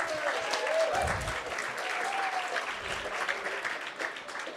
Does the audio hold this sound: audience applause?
yes